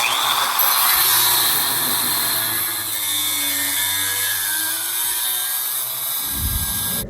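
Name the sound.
cutting an old mower header pipe for a dirt bike exhaust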